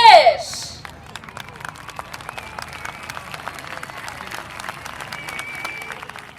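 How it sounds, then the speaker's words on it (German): Audience applause for a host walking on stage: a brief loud burst at the start, then a sustained mass of light, scattered clapping from a crowd, with talk over it. "Ich bitte um einen großen Applaus für Jonathan J. Cash."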